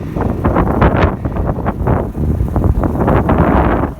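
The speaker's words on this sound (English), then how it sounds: "today it's windy again" Strong wind buffets the microphone in loud, irregular gusts and rumbles, with no voices.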